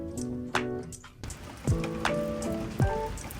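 Rain falling steadily outdoors, a continuous patter on surfaces with a few louder splashy drops and impacts standing out, nobody talking.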